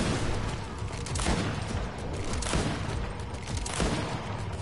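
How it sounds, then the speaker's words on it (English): Sustained gunfire from shooting an enemy in the video game GreedFall, a dense rattle of repeated shots with booming hits running through the whole stretch at steady loudness, no talk over it. "Just gotta keep shooting until he runs up."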